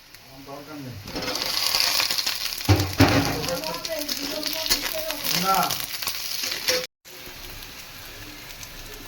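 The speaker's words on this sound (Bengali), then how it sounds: "আলু আর পেঁয়াজ আমি একসঙ্গে ভালো করে একটু নেড়েচেড়ে মিশিয়ে নিলাম" Potatoes and onions stir-fried together in a pan with a loud crackling sizzle and stirring scrapes, while someone talks over much of it.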